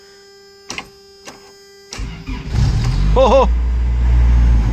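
A 1994 Toyota pickup engine cranks in a few short bursts, then catches and settles into a loud, steady idle close by, with a brief exclamation from a voice.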